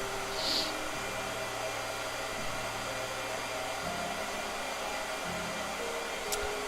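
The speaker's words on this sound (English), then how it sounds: "Blow dryer." A handheld blow dryer runs steadily at an art painting session, a constant airy whoosh with a low motor hum that shifts pitch slightly a few times, close and continuous with no talk.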